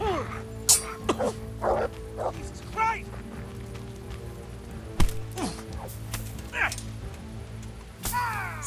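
A dog in Kingdom Come: Deliverance gives short barks and yips while attacking during a fight, heard amid combat noise, game music and talking.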